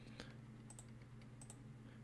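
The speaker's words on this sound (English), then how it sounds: "Oh my God, I'm slow at typing." Keys tapped on a computer keyboard, a few soft scattered clicks and short bursts over a low steady hum, faint and close.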